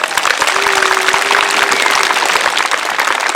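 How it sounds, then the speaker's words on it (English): A school audience at a Veterans Day celebration claps for a performing group, loud, dense applause filling the room throughout, with a faint sustained tone in the background. "Clap it up for that group."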